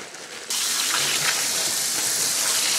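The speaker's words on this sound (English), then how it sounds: "Pour some ice over top." Ice is poured over freshly smoked beef sausages cooked in an offset smoker, a sudden loud rushing clatter that starts after half a second and continues steadily to the end, with no talking.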